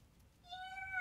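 A person imitates a cat with a single rising, drawn-out meow, faint and brief over quiet room background.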